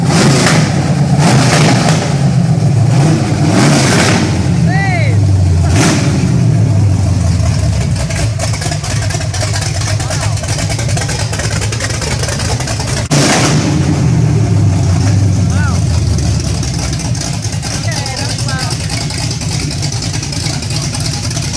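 A 505-horsepower carbureted 427 V8 in a DiMora retro-mod Mustang roars with no mufflers fitted, very loud and close, repeatedly revving up and settling back into a rough, heavy idle.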